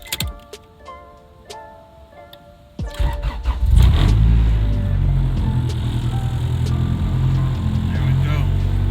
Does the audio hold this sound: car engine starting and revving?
yes